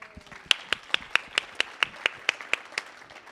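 An audience at an evening stage performance claps in a steady, fairly sparse round of applause, with individual sharp claps spaced evenly and nearby, and no speech over it.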